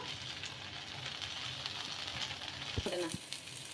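Sago dosa frying in oil on a pan gives a steady, soft sizzling hiss throughout, with a few faint scraping touches near the end.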